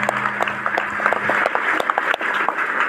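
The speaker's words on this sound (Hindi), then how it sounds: "एक बार बाबूजी के लिए जोरदार तालियां बजाएं हमारे।" A crowd at a Ram Katha religious gathering breaks into applause, a dense patter of many hands clapping at moderate loudness, with a low steady hum underneath and no speech.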